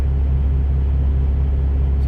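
A refrigerated truck trailer unit runs steadily with a low, constant droning hum, close and unchanging, with no voices.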